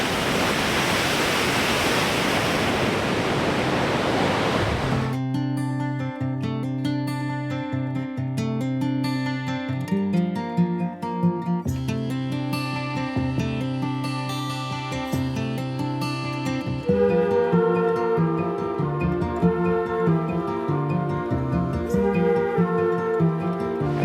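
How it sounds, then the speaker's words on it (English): Huge ocean waves crash and surge up past the windows, a dense, steady roar of surf for about five seconds before music takes over and carries on to the end. "Some of those waves coming in are huge, and they're like going up way past 2 sets of windows."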